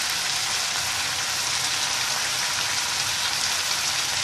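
Chopped tomatoes tipped into a pan of broccoli, Bangladeshi-style vegetable cooking, giving a steady, loud, close sizzle and crackle of frying that continues unbroken.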